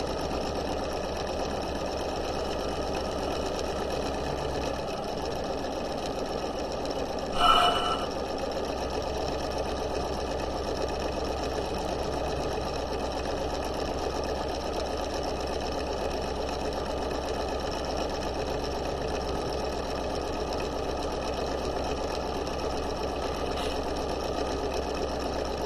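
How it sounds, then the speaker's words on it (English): Sewing machine running steadily and continuously while stitching the leg seam of homemade pajama pants, a constant close motor hum with one brief louder bump partway through. "Back stitch and sew at 5/8 of an inch."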